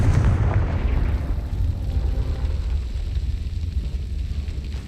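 Confringo fire spell explosion in Hogwarts Legacy, a loud, heavy blast with deep booming low end that rolls off and decays over several seconds.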